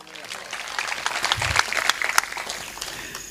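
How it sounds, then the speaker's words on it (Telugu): An audience claps loudly at a church gathering, a dense broadband patter running through the whole stretch with a few sharper claps standing out and some voices mixed in underneath. "గట్టిగా చప్పట్లు కొట్టండి"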